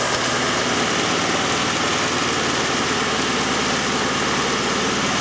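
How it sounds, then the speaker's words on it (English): A car engine idling rough and misfiring from a shorted fuel injector, a loud, continuous rumbling drone with an uneven pulse, close by and without talk. "So it's misfiring real bad."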